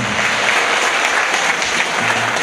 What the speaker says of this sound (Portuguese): eu quero mais palmas, eu quero mais palmas, mais palmas merece